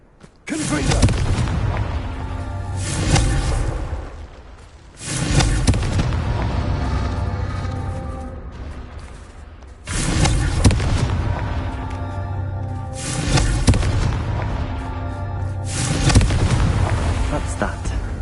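Fire-blast spell in Hogwarts Legacy erupting as a series of loud, booming bursts at roughly five-second intervals, each followed by a crackling rumble that fades before the next strike, close and heavy throughout.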